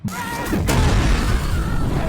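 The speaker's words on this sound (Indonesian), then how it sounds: "beberapa detik kemudian mobil tersebut meledak hebat" Car exploding in a Korean action film, a sudden loud blast followed by a deep rolling roar and debris rumble that sustains for about two seconds.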